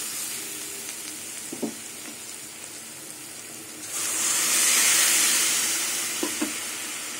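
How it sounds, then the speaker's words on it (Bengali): Boiled pea dal goes into a pan of frying mustard greens with garlic, ginger and onion. A soft background sizzle swells into a loud, bright hiss midway and stays strong, with faint stirring clinks. "এবার সেদ্ধ করা মটর ডালটা দিয়ে দেবো।"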